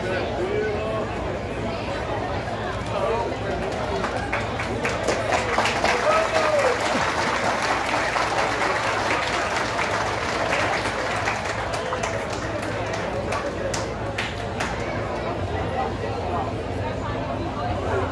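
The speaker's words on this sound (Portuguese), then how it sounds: "Aplausos." Applause from a crowd at a municipal medal award ceremony in Tiros, Minas Gerais, sustained clapping mixed with crowd chatter and voices throughout, steady and fairly loud.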